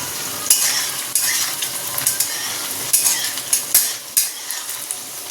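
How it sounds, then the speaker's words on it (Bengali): Paneer cubes fry in a pan with a steady close sizzle, broken by repeated scraping stirs and sharp clicks of a utensil against the pan. "পনিরগুলো ভেজে নিচ্ছি।"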